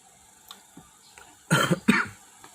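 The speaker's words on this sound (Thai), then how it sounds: "มีกระแอม" A short, close throat-clearing burst, two rough bursts in quick succession, over faint background noise with a few soft clicks.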